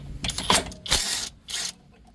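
Ratchet with a 12 mm socket working a strut bolt loose on a Toyota Camry front strut, several short bursts of clicking separated by brief pauses, close and fairly loud.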